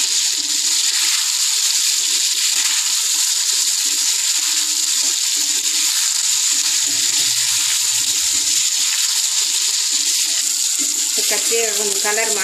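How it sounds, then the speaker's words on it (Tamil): Brinjal (eggplant) pieces sautéing in oil for an ennai kathrikai kulambu give a steady, even hiss of frying that runs throughout, with faint stirring scrapes and soft background voices under it. "எண்ணெயிலே வதக்கணும் கத்திரிக்காய்"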